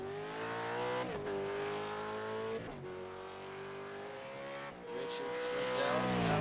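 A Ford Mustang V8 Supercar racing at Virginia International Raceway, its engine holding a loud, steady high-revving drone that dips briefly three times at gear changes before climbing again.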